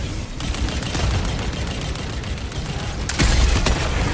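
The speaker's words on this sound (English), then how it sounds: "Throwing grenade." A grenade thrown and exploding in the video game Helldivers 2, heard amid dense gunfire and battle noise, with a heavy low boom landing near the end.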